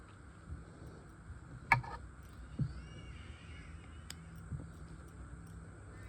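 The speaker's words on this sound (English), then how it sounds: "Different birds in the afternoon." Birds call in the afternoon, a couple of sharp crow-like caws standing out over a quiet, steady background hum.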